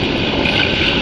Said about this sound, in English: what we see is that the helicopter is flying while the main propeller of the helicopter is static